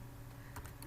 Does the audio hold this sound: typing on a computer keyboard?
yes